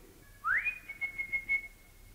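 A person whistles a short tune: a rising swoop followed by a few steady, clear held notes, faint and alone in a quiet room.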